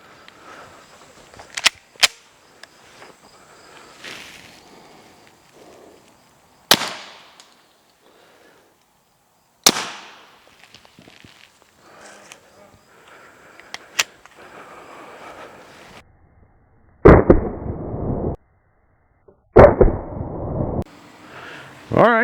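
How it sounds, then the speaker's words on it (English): Rifle shots fired with Fort Scott TUI 115-grain full metal jacket tumble-upon-impact ammunition in an outdoor field test: two sharp, loud cracks, followed by several further sharp bangs and bursts of rustling. "All right, so I fired twice."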